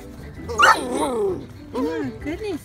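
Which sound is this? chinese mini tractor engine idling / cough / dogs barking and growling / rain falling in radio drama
dogs barking and growling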